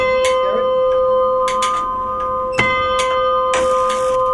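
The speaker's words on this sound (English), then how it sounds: "when it spins, it's telling you the time, and the bell is ringing." A town clock mechanism in Belize ticks and clicks under a steady ringing bell tone, with sharp mechanical knocks recurring at irregular intervals.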